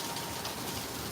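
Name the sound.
rain falling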